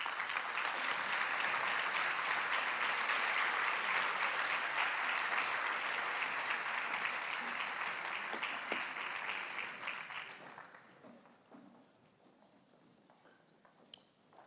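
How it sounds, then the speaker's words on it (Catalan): An award-ceremony audience gives strong, sustained applause to a women's Latin-sail team, a dense wash of clapping that holds for about ten seconds before fading to a quiet room. "Fort aplaudiment per a aquestes dones"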